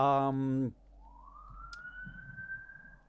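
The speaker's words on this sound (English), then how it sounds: "police sirens." Police siren inside the video game Crystal Heart: a brief voice comes first, then a single clear wail rises slowly and holds, steady and fairly faint over a low background.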